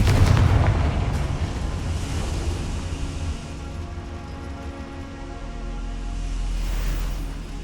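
Confringo blasting spell in Hogwarts Legacy, a heavy booming blast at the start that decays into a long rushing, rumbling roar, swelling again near the end, with no talk.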